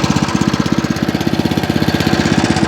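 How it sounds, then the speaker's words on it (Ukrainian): A WEIMA WM900M-3 walk-behind tractor engine runs close by with a loud, rapid, steady chugging beat, a rough single-cylinder putter that holds a constant pace throughout. "Оберти не чіпаю, закриваю заслоночку і запускаю."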